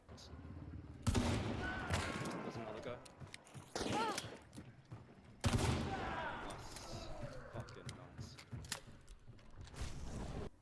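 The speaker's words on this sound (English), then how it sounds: "My first shot needs to be lethal, so I adjust my aim and shoot the stationary target" Gunfire from the video game Hunt: Showdown, a single-shot weapon fired at a stationary target, with two loud, sharp reports about four seconds apart, each followed by a ringing tail, over a busy game soundscape.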